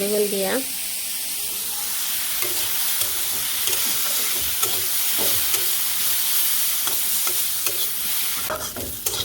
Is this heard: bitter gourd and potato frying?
yes